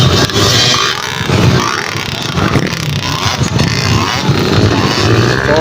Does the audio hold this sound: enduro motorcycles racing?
yes